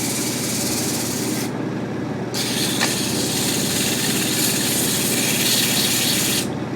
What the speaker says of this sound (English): Grab a little bit of 220 grit sandpaper.